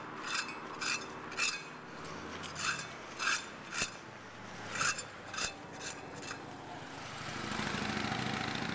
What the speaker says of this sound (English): He's scraping all the dirt up.